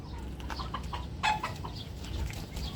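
Bulik chickens, young stags and pullets with sparse feathering, give faint clucks, with one brief, clearer call rising over a low, steady farmyard background.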